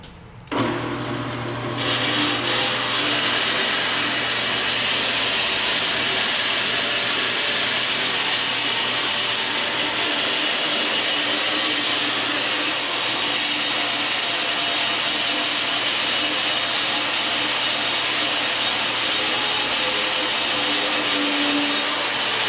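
Rebar being cut two pieces at a time with a power cutter in a cut shop, making forming pieces for concrete footings and piers; a loud, steady, continuous grinding whine runs the whole time with no talk.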